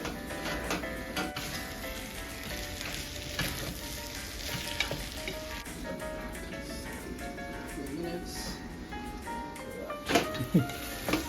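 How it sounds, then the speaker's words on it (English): Tomato being stirred into a frying mutton curry base in a pan, giving a steady close sizzle with occasional scraping stir sounds and a few louder clatters near the end. "Adding the tomato. Giving it a stir."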